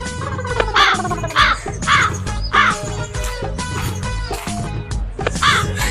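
Crows caw repeatedly and loudly close by, harsh calls following one another in quick succession amid other busy background sounds.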